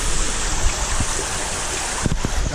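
Steady, loud rushing water pours through an aqueduct beside a homebuilt pavilion, a continuous broadband wash with a few low knocks near the end.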